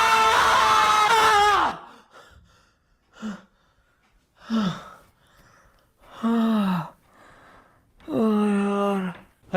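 A person screams loudly on waking from a bad dream, one long cry followed by several shorter gasping screams and groans with pauses between them.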